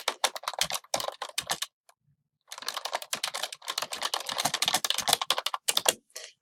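Rapid keystrokes clatter on a computer keyboard in close, uneven bursts, broken by a short pause before the typing resumes steadily.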